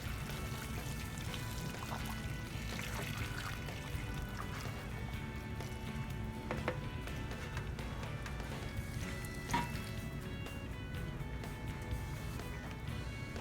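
Water pours steadily into a pot of hot tamales on a stove, a continuous close splashing trickle with a few clinks over about thirteen seconds and no talking.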